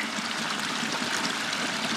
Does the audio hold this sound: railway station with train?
no